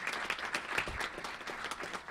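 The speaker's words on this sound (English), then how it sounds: "And how about a big round of applause for our moderator, Martha?" Applause from a breakfast policy panel audience for the moderator, a steady moderate patter of many hands clapping at a slight distance in a large room.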